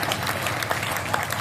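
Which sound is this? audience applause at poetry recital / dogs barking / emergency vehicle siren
audience applause at poetry recital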